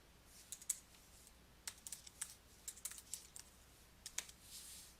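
Typing on a computer keyboard while entering a spreadsheet formula, quiet irregular key clicks in short clusters over faint room hiss.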